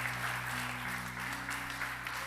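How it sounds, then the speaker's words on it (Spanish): A church congregation claps at a service, a faint, steady patter of applause over sustained keyboard chords. "Dele un aplauso fuerte al Señor."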